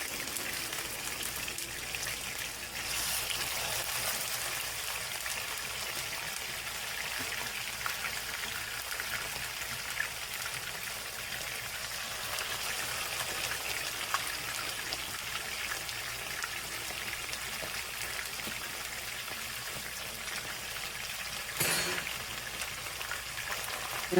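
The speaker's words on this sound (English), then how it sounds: "This is our pan with vegetable oil inside. And we're just frying our salmon." Salmon fries in a pan of vegetable oil, a steady crackling sizzle that runs without a break across the whole stretch, close to the mic and at a moderate level, with no talking over it.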